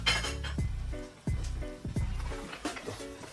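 A utensil scrapes and clinks repeatedly against a pan while salmon and shrimp pasta is mixed around, giving close, uneven metallic knocks and clatters.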